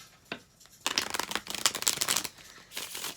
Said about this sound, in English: Pulling some oracle cards for you.